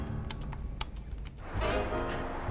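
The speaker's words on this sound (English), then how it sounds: "you can almost hear the clatter of A-grade property manager Tracy Lee's keyboard" Fast clattering keystrokes on a computer keyboard, a run of sharp close clicks with short pauses, followed by a steadier, denser stretch of typing over a low room hum.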